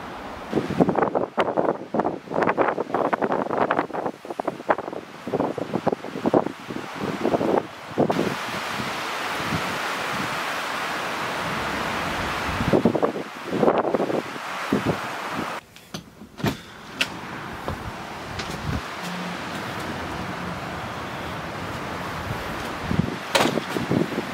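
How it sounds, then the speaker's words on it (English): Strong, gusty wind roars steadily during a winter storm at a farmhouse, with gusts over 50 mph ahead of forecast snow, buffeting the microphone in rising and falling surges, with rustling and rattling mixed in and no talk. "Getting more and more windy."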